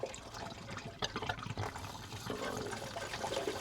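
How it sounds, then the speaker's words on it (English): Water gushes and splashes steadily from an opened drain point on a Vaillant boiler during a repair, a broad rushing flow with gurgles and air pulled in. It stays close and loud throughout with no talk. "if I open that, I'm going to get loads of water coming out of there"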